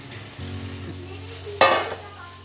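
Boiled potatoes from a pressure cooker drop into a sizzling yogurt curry: a low steady sizzle and hum, then a sudden loud splash and burst of crackling that fades over the final second.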